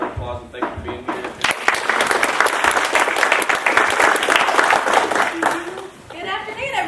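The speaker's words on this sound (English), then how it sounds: "let's give her a round of applause" At a university ethics seminar, an audience claps in a strong burst that swells and holds for several seconds. Voices speak briefly just before the clapping starts and again as it fades.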